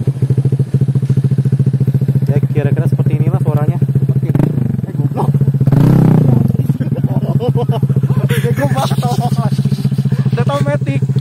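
A Honda PCX scooter fitted with a WRC aftermarket exhaust idles close by in a steady, throbbing low drone that briefly swells around the middle, with people talking over it throughout.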